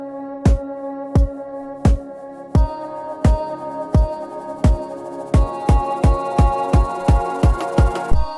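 An electronic track section where vocals and the drop's chords are filtered, brightening as the filter opens, under a steady, quickening run of punchy hits that grow denser toward the end, loud and close.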